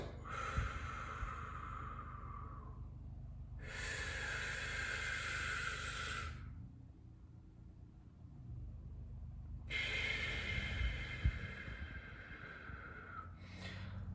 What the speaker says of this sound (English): So 4x4 method is just breathing in for 4 seconds. So then you're going to hold for 4 seconds, and then you're going to breathe out for 4 seconds.